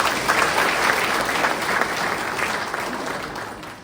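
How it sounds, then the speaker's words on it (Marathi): An audience at a book launch claps in a dense, sustained burst of applause that carries on steadily throughout, fading slightly toward the end. "त्यांच्यासाठी एकदा जोरदार टाळ्या"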